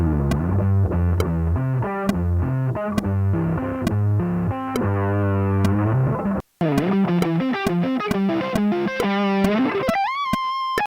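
Distorted electric guitar plays a slow lick of sustained notes at half speed while a sharp metronome click ticks steadily throughout.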